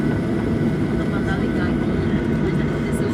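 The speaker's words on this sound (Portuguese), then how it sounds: "Estamos pousando." Airliner cabin during landing approach into Salvador, a steady loud engine drone and rushing air filling the space throughout, with passengers talking over it.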